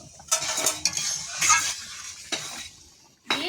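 Ground cumin and black pepper paste, roasted and stone-ground, being added to a pan of shrimp curry with pumpkin greens stalks: a few sharp sizzling bursts and spoon scrapes against the pan, quiet and close.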